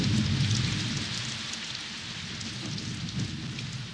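Steady rain hisses down close by with a low rumbling undertone, continuous and fairly faint, with no voices.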